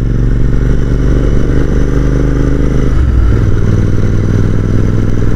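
A Royal Enfield Interceptor 650 Mark 2 being ridden on a mixed mountain road toward Kalpa, its engine droning loud and steady with a brief dip in pitch midway, no voices.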